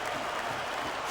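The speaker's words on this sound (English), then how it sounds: "Sounds like this crowd's got something on their minds, King." A wrestling arena crowd in WWE SmackDown vs Raw 2006 on PS2 gives a brief, steady wash of cheering and applause, faint and distant, swelling slightly at the end.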